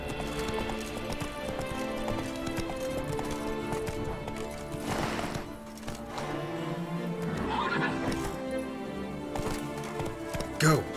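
Roach the horse in The Witcher 3: Blood and Wine, clip-clopping hooves at a steady run with whinnying, under game music and talking voices.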